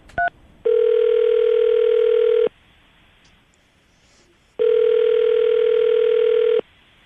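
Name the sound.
telephone dialing and ringing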